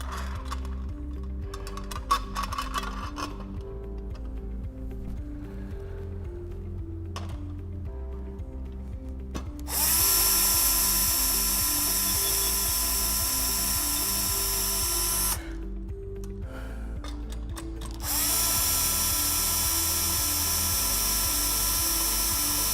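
A power drill drives screws through guide holes into a plaster guard during a fixture installation, giving two long, loud, steady high whines up close with a short pause between them, after some quieter handling sounds.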